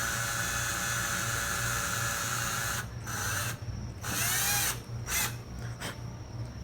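Steady high-pitched whine of a drill boring a hole through a handmade ornament, running continuously at close range and dipping briefly in pitch and level several times toward the end, with no talk.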